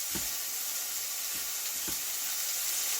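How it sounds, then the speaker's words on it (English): Beef pieces fry in a pan with sesame oil for a stir fry cooked in a campervan, a steady loud sizzle with a few soft spatula knocks underneath and no voices. "slide your spatula in underneath and turn them over and cook the second side"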